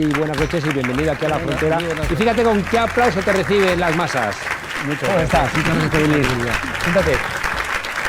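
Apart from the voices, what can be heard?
audience applause welcoming a TV guest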